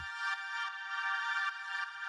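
A sustained synth pad with no chorus on it, sitting in the upper mids as a dense held chord with a slight warble, steady and alone, with no talking.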